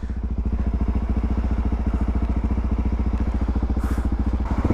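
A motorcycle engine runs with a fast, steady, throbbing putter close by, loud and even throughout with no talking.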